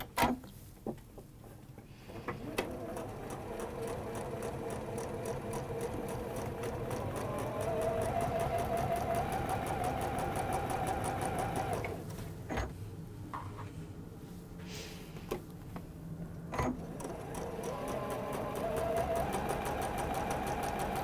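A sewing machine stitches down fabric seams in a home sewing session, running in a steady continuous mechanical whir with an even ticking rhythm, sustained at moderate loudness, pausing briefly near the middle before resuming.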